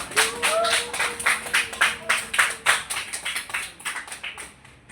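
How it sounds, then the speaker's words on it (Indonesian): Classroom applause from pupils at the close of a lesson, a string of distinct rhythmic claps in steady unison, close and clear, gradually thinning out toward the end, with a brief voice over the start. "tepuk tangan untuk kita semua hari ini"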